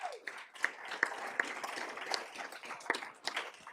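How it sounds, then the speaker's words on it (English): Applause breaks out from an audience at an evening mayoral candidate forum in Denver, a moderate wash of clapping with scattered sharper claps, fairly steady and not very loud, with no talking over it. "Let's give our candidates a round of applause."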